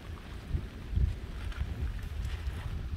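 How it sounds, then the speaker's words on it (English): Strong wind gusts buffet the microphone with a deep, roaring rumble over a flood-soaked rural property, loud and close, swelling and easing in waves for a few seconds. "Oh wow, that wind's strong."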